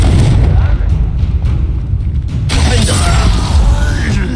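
The Confringo explosive spell in Hogwarts Legacy, a loud fiery blast that bursts out midway through heavy rumbling battle noise.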